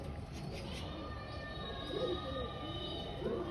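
Low, soft cooing from domestic pigeons during a home flock flight, two brief throaty phrases rising out of a steady background hum near the end.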